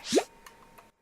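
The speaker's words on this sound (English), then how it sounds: "that was my pufferfish." A pufferfish in the Minecraft Update Aquatic gives a single quick bubbly plop, followed by two faint soft ticks before silence.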